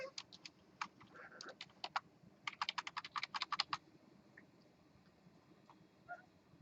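Students typing code on computer keyboards in a lecture room, bursts of rapid clicking keystrokes at close range that thin out to a few scattered taps over quiet room hum.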